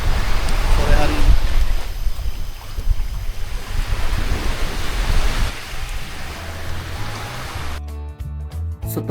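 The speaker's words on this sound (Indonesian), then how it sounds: "Ngopi sambil menikmati suasana pantai sore hari ini." Beach surf rolls in steadily under strong microphone wind on an afternoon seashore, loud and close, with the roar easing slightly toward the end as a brief tonal sound cuts in.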